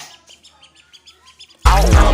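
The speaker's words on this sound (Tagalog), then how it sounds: "papakalala ko muna sa inyo ng aming kalapati" A pigeon gives a quick run of faint, evenly spaced chirps at close range before loud music suddenly takes over.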